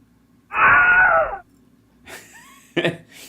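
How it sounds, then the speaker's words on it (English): A Wilhelm scream, the classic stock film scream, rings out as one loud, drawn-out wail lasting about a second, then gives way to a couple of shorter, quieter bursts of sound. "That's called the Wilhelm scream."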